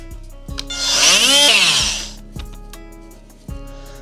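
Sawzall reciprocating saw cutting during a shower pan base and PVC drain install, one loud rising and falling burst of about a second, close by, with a few sharp clunks before and after.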